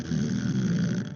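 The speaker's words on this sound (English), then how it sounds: "find ourselves snoring." One drawn-out snore, close and fairly loud, with a rough low rumble that lasts about a second before cutting off.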